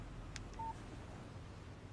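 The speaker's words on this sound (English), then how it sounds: "Text message from Barry." A short electronic phone alert for a text message sounds in the video game Alan Wake: one quiet brief tone over a low background hum, with no talking.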